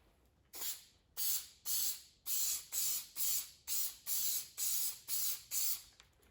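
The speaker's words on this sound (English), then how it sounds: "see how fat or how wide the nozzle spray is" A spray nozzle applies headliner adhesive onto a test board in about ten rhythmic, close hissing bursts with short gaps between them, with no voices.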